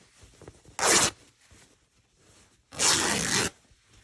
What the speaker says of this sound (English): Then I'm going to grab it and I'm just going to rip.